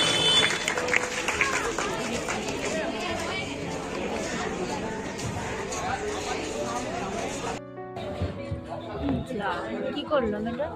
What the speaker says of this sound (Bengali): উৎসাহিত করুন করতালি দিয়ে।